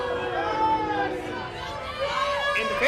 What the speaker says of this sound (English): And the fans are responding with a boo.